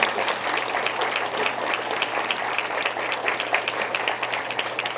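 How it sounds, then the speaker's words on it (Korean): An audience at a Seoul policy forum on childcare integration claps warmly, a dense, even wash of many hands that stays steady throughout with no voices above it. "기운찬 박수 한번 보내주세요."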